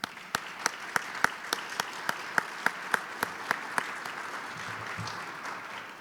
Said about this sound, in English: Now let's give her a big round of applause.